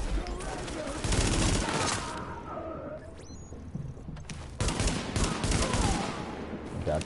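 Gunfire from a gun in the video game Tom Clancy's The Division, bursts of fire fairly loud and close, breaking off briefly mid-clip then resuming, with someone talking over parts of it.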